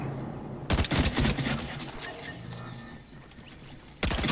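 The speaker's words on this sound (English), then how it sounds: "Someone else is shooting." Bursts of automatic gunfire in a shooter video game, loud close volleys near the start and end with quieter distant shots in between.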